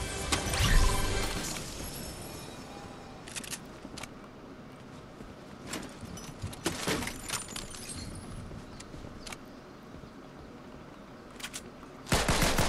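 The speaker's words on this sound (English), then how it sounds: "stop fucking shooting at me like that" Gunfire in the Fortnite battle royale game aimed at the player, a bursty stream of rapid shots crackling through the clip with louder volleys near the start, around the middle and at the very end, no voices.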